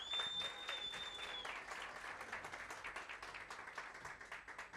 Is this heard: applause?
yes